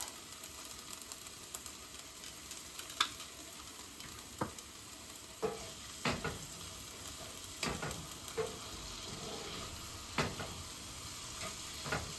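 Food frying in olive oil in a cast iron pan gives a steady, soft sizzle, with occasional light scrapes and clicks of stirring over it; no voices.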